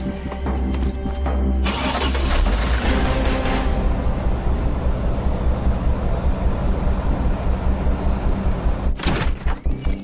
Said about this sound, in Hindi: गाड़ी चालू कर